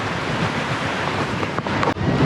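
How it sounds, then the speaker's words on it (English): A strong wind gust of nearly 30 mph roars steadily outside a hut below the mountains on a freezing night, a dense continuous rush with brief buffeting dips and no talking. "So we've just had a gust of nearly 30 mile an hour."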